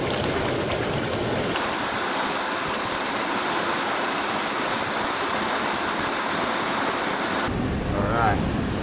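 A gold prospecting pan is swirled in water, giving a steady, close rushing and sloshing wash that runs throughout with no clear breaks and changes tone slightly near the end.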